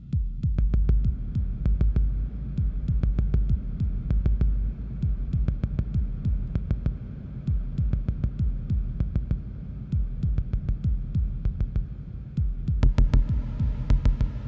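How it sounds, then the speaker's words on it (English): A heartbeat-like kick drum from a modular synth patch for industrial hardcore techno thumps in steady repeating double pulses over a low hum, loud and close, with a brighter, busier burst near the end. "I love heartbeat."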